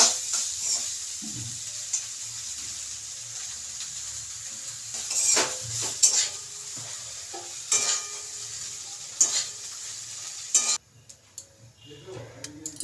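Soybean chunks, boiled and cut, fry in a pan with a soft sizzle beneath repeated scraping and clinking stirs of a utensil against metal, close by, ending abruptly near the end.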